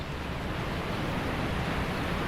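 Steady broadband rush of a waterfall in a video game, a constant hiss-like roar with no breaks and no talk.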